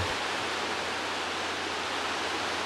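Surf surging at a grotto in Saipan, a loud, steady roar of churning seawater filling the whole clip with no breaks or voices.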